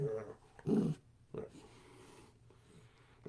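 A dog gives a few short, low growls with pauses between them, faint and close in a quiet indoor room, while a person talks nearby.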